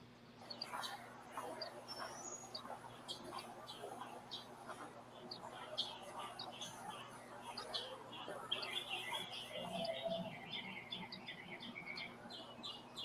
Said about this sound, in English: All I hear are the birds.